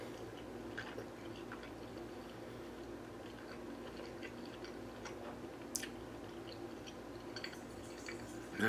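Quiet, close chewing of a stuffed Italian sausage with sauce and cheese, soft wet mouth sounds and small clicks repeating irregularly against a low background hum.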